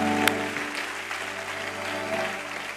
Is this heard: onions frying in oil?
no